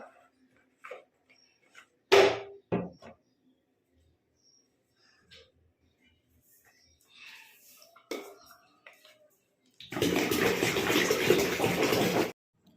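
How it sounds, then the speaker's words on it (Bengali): Water from a tap pours into a bottle in a steady, loud rush lasting a couple of seconds, preceded by scattered knocks and faint clinks in an otherwise quiet space. "নিচে কলে তার জন্য জলটা ঢেলে নিচ্ছি"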